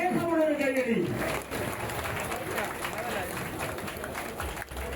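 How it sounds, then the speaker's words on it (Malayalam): Crowd applause and cheering at a Kandassankadavu boat race flag-off, a dense outdoor wash of clapping with voices over it, loudest at the start and then holding steady. "ആവേശമുള്ളൊരു കൈയടി"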